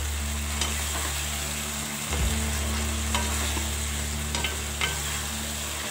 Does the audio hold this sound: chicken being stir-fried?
yes